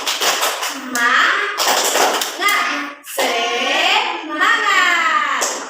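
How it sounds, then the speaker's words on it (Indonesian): Third-grade elementary class doing a rhythmic spirit clap in an Indonesian classroom, with patterned bursts of hand claps mixed with children's chanted voices in loud, energetic waves. "kita tepuk semangat dulu ya"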